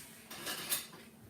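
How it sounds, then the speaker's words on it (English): Metal kitchen tongs clink and rattle briefly as they are picked up beside a pan of frying shrimp, a short close clatter lasting under a second against a low background hiss. "Let me get some chicken tongs."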